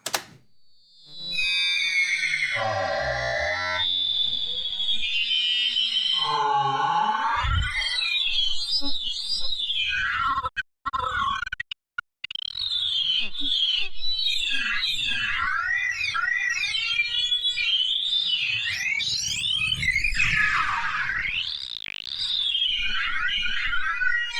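A heavily processed psytrance synth tone run through the Unfiltered Audio Silo plugin, with sweeping, warbling pitch, distortion and echo, playing continuously and loudly with no talking.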